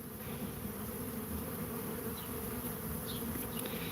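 A dense swarm of Africanized honeybees, bred in Brazil, drones in a steady, loud, close buzz that holds unbroken for the whole stretch, with no voices.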